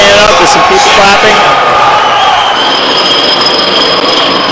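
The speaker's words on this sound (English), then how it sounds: "That gets the crowd standing up. There's some people standing up. There's some people clapping." Crowd at a men's college volleyball match against Ball State rising to its feet, a loud continuous roar of cheering and clapping throughout, with a voice over the top.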